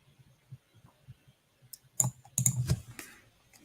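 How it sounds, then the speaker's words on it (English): Keys clacking on a computer keyboard at a trading desk, quiet scattered taps at first, then a denser burst of typing in the second half, close and alone with no talk. "so I'm typing these up"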